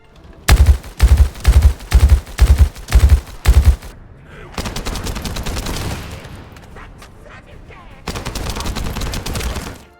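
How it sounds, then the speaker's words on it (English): Weapons fire in The First Descendant looter shooter: six punchy rhythmic bursts of heavy gunfire, then a sustained rapid-fire stream after a brief pause, and another automatic burst near the end, loud and close. "The guns sound amazing and it just tickles the brain in a very primal way."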